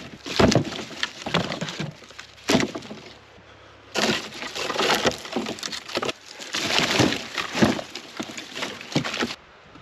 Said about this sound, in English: stock up on some extra firewood for the night